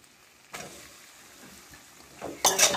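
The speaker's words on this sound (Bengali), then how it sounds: "ভালো করে নেড়ে নেব।" Pasta being stirred in a pan with chopped eggs and spices, giving short scraping, sizzling bursts, one early and a louder one at the end, over quiet background.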